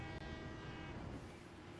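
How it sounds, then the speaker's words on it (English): A train horn in the factory-building game Satisfactory gives a steady, loud tonal toot that fills the whole short moment, layered over a low rumbling rail-transport bed with no talking. "the train gives me a bit of a toot"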